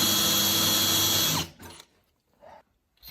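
A power drill bores through the inner wall of double wall stove pipe for a woodstove install in a cabin, running loud and steady for about a second and a half before it stops, followed by faint handling noises.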